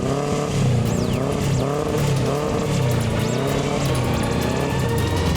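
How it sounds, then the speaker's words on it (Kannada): A motorbike engine starts up in a movie scene and revs loudly and continuously, its pitch rising and falling in repeated swells, with no talking over it. "ಬೈಕ್ ಸ್ಟಾರ್ಟ್ ಆಗೋಯ್ತು."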